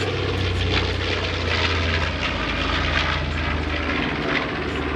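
A North American B-25 Mitchell bomber at the 2016 New York Airshow, its piston engines and propellers producing a loud, continuous, rough drone as it passes nearby.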